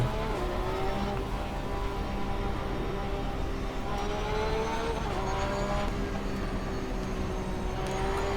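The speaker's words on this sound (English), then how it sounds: "And looks like it's a Nissan now, the Nissan GTR, which came by in second." A Nissan GTR race car in the Assetto Corsa Competizione racing game roars past with a loud, sustained high-revving engine note whose pitch shifts as it goes by, over continuous engine drone.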